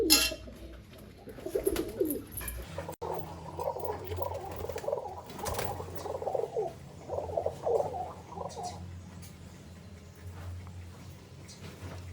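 A pet pigeon being handled for deworming gives soft, low cooing murmurs, with close rustling and pattering of feathers and movement early on and quiet background noise.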